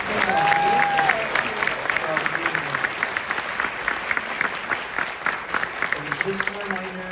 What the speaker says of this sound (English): Let's have a round of applause for Jeff and Becky